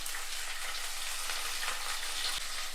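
Tomatoes fry with ginger, garlic, green chili and curry leaves for a chicken sausage curry, a soft even sizzle held steady and close, with a faint stir near the end.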